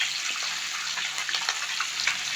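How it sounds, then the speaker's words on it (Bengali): Fish frying in hot oil in a pan, a steady crackling sizzle with small pops throughout, close and moderately loud with no voices. "এবার আমি মাছগুলো উল্টে দেবো যাতে উল্টো সাইডটা ভালোভাবে ভাজা হয়।"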